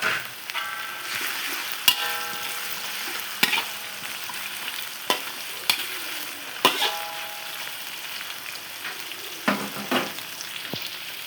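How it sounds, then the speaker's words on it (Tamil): Tomatoes and turmeric are stirred in a frying pan for a sundaikka dish: a steady sizzle runs throughout while a spatula scrapes and clicks against the pan in irregular, close strokes, with no talking. "மஞ்சத்தூள் சேர்த்து நல்லா கிண்டி விட்டுட்டு லீட் போட்டு மூடி வைங்க."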